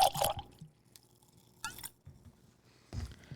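Ardbeg Corryvreckan whisky glugs out of its bottle, a short burst of liquid pouring followed by quieter drips and a couple of brief splashy pours after pauses.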